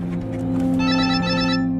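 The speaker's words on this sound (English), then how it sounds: "phone rings with news about her daughter." A telephone rings with a trilling electronic bell pattern that starts partway through and sounds clearly over a sustained low musical drone in a true crime documentary.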